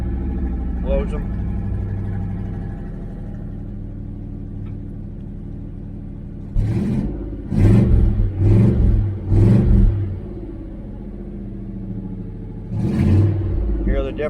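A 1976 El Camino with a new exhaust system and its exhaust cutouts closed idles, then revs in several quick, sharp bursts with a throaty rumble, followed by a pause and one more rev.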